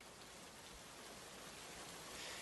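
Steady rain falling as a sound effect, an even, dense hiss of drops that holds without break and swells slightly toward the end, with no voices.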